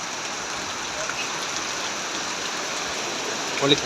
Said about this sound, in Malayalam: നല്ല മഴയും